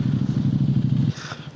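A motorcycle engine on an off-road outing by the KRS backwaters in Karnataka throbs close by with a steady low pulse for about a second, then cuts out, leaving faint outdoor noise.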